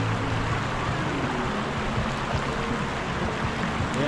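Strong current of the Puyao river rushing in a steady, loud broadband wash of water, continuous and close with no pauses throughout.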